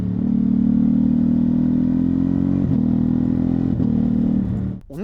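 Suzuki GSX-S 1000 GT motorcycle engine holding a loud, steady, close low hum, with two brief dips before cutting off abruptly near the end.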